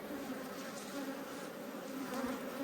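Honeybees swarm-ready around an open hive frame with a blue-marked queen, a steady dense buzzing of many insects, close and continuous with no talk.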